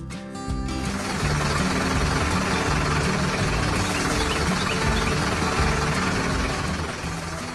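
A farm tractor engine runs steadily and loudly at a constant pitch with a low mechanical drone. It starts after a brief opening sound and continues alone without pause.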